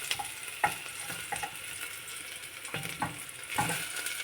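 Garlic frying in cooking oil in a pan, a steady close sizzle with scattered stirring clicks and scrapes of a utensil against the pan.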